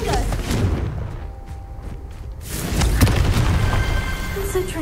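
A Confringo spell explosion bursts in a video game, a deep booming blast that swells and holds loud across the second half of the moment.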